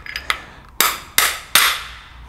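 A hammer knocks an old bearing onto a rebuilt Vespa PX 177cc scooter engine: a few light taps, then three sharp, loud metallic blows about a third of a second apart, each ringing out briefly.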